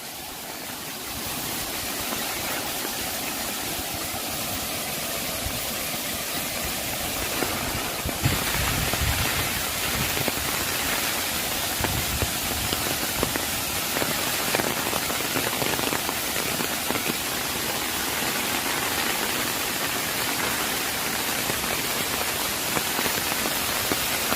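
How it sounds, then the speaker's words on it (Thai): Heavy rain pours steadily near Kanchanaburi in Thailand, a loud, dense hiss of drops drumming on surfaces that swells slightly after the first few seconds and holds constant throughout. "ตกแรงมากนะคะ ตอนนี้ มาถึงตอนฝนตก พอดีเลยค่ะ"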